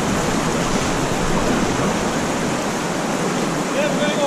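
A waterfall near a kayak fishing spot gives a steady, broadband rushing hiss, continuous and unbroken for the whole stretch, with no voices clearly over it.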